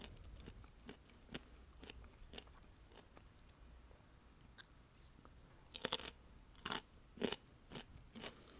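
Intermittent crunchy bites and chewing of raw radishes, a few louder crunches toward the end, over a steady low background noise from outside.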